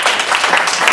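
Audience applause, a dense steady wash of many hands clapping for a brief moment without pause.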